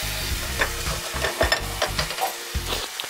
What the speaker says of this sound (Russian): И теперь мы начинаем потихонечку добавлять наш бульон.